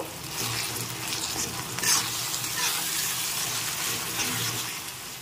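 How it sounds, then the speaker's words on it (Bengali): Spice paste being stirred and fried in a pan for a bottle gourd peel mash, giving a steady close sizzle with soft scraping stir sounds throughout, no voices. "পেস্টটা দিয়ে একটু ভালো করে নেড়ে চেড়ে নিতে হবে বেশ ভাজা ভাজা হয়ে আসা পর্যন্ত।"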